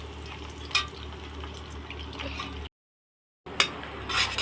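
Jackfruit frying in a pan: a faint, steady sizzle with occasional stirring clicks close by, broken by a short stretch of total silence before the frying noise resumes.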